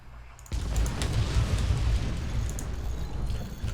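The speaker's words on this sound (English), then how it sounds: "Just listen to the explosions." Artillery in the Forts strategy game produces a dense, continuous rumble of explosions that starts abruptly, with low booms piling on top of each other, loud and sustained.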